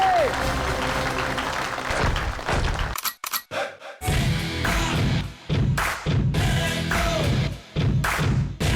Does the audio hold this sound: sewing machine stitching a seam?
no